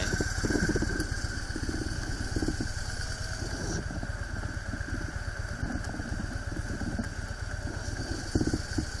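A Harley-Davidson motorcycle engine runs steadily with a low, throbbing idle rumble, close by and continuous for the whole stretch, with a brief louder rev near the end.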